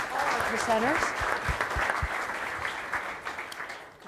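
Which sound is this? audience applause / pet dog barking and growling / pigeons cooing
audience applause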